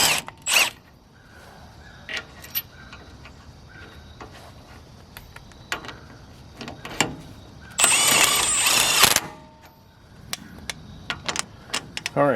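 Wrench work on Dana 60 axle bolts, scattered close metallic clicks and clanks with a burst of rapid ratcheting in the middle, amid quiet shop pauses.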